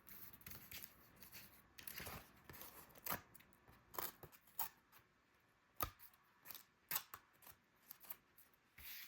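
Scissors snip brittle book page paper, a series of sharp, close cuts in an uneven rhythm with quieter paper rustling between them.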